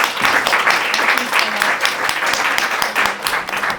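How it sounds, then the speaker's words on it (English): An audience at a conference side event applauds its panelists with brisk, dense clapping that runs throughout, and a voice speaks over it. "Round of applause to our panelists."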